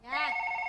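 A telephone rings loudly and close, a single bright electronic trill that holds steady, heard during a live wayang kulit puppet show broadcast.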